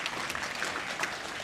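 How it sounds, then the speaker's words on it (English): High school students in an assembly clap for a guest from Moose Jaw, a brief, fairly faint patter of crowd applause with no voice over it. "Can we give him a round of applause, please?"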